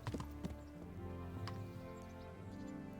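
Horse hooves clip-clopping in Kingdom Come: a few quick, close hoof knocks at the start over a steady, low, tonal game background, then softer, sparse taps, with no voices.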